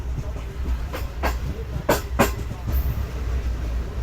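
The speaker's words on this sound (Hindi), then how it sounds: "फाइनली कॉर्ड लाइन पर आ गई है ट्रेन हमारी" A Pak Business Express passenger train runs along a chord line track, its steady low rumble punctuated by a few sharp clicks and clacks from the rails, heard close from on board without any talk.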